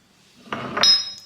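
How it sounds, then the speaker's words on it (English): A spoon scoops frappe powder into a cup and gives two quick clinks against it, close and clear, followed by a faint ringing tone. "I'm going to add frappe powder"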